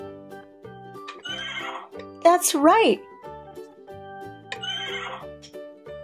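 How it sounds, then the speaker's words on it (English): A horse neighs once, a loud shrill whinny rising and falling, set within cheerful children's music with gentle clip-clop beats, and a voice speaks briefly. "our first animal is a horse. What sound does a horse make?"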